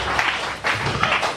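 Congregation applauding in a church service, a short burst of dense clapping that swells in waves, fairly close and steady.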